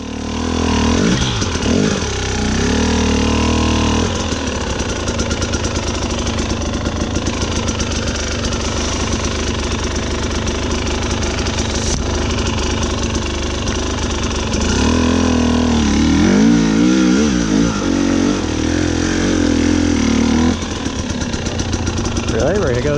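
The two-stroke engine of a 2021 TX300i dirt bike revs and idles on a snowy trail, with an uneven throttle and bursts of rising revs. Someone talks over the close engine noise throughout.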